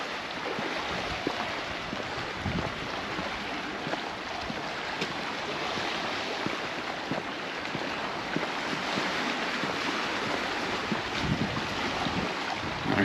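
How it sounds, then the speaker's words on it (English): Sea water washing and splashing against rocks along the shore at Palmanova, Mallorca, a steady close wash of surf with wind noise buffeting the microphone throughout and no talking. "sound of the water waves splashing against the rocks"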